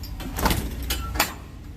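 A Prime Inc reefer trailer door swings shut and latches, with a couple of sharp metallic clunks and a rattle against a low background rumble, close by and without talk.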